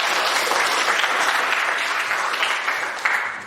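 High school students in a biology class burst into dense, steady applause that fills the room for several seconds, tapering slightly at the end.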